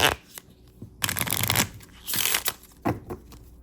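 Tarot cards are shuffled up close in several crisp bursts of riffling and flicking, separated by short pauses.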